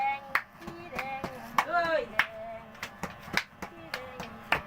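Audience at a rural-style haircut show clapping in scattered sharp bursts, steady and close, while someone talks over it continuously.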